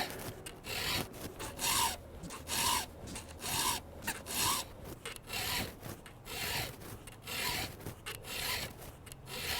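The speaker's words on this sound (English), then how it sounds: "Now I'm filing it until I can see all the damage on the end of that tooth disappear" A hand file rasps back and forth across a damaged saw tooth in steady, even strokes, each pass a loud gritty scrape with brief pauses between, close up and with no talking.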